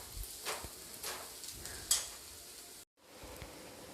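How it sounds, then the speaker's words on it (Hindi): Potato and cabbage fry in a pan with a soft, low sizzle, broken by a few light stirring scrapes and a brief silent gap near the end. "मैंने इसे 1 मिनट तक फ्राई कर लिया है।"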